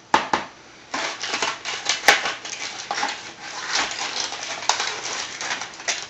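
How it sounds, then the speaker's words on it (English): A knife slices into a rested meatloaf studded with cheese and salami, giving a run of close, crisp crunching and scraping strokes that continues steadily for several seconds with no talk. "now we're going to cut it right into it"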